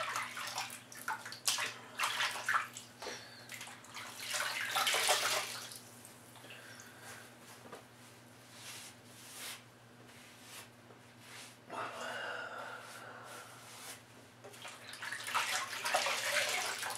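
Water runs from a tap to rinse off after a shave, a steady close splashing flow that swells, eases, and surges again over the clip.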